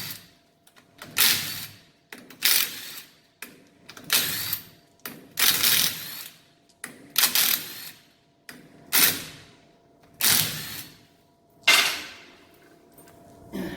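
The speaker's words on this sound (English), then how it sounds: "the first thing we're going to do is we're going to remove the axle" Work on removing the axle from a heavy duty rear drum brake: a steady series of loud metallic clanks and ratcheting knocks, about one each second, close by with brief gaps between.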